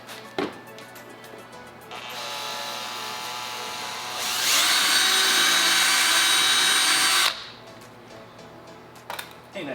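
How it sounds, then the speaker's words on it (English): A power drill enlarges a headlight bolt hole on a wrecked Ford Mustang GT, with a few clicks, then a steady whir that climbs to a louder, harsher cutting grind before it stops abruptly and small handling clatters follow. "I'm just going to drill the hole here just to be a little bit bigger."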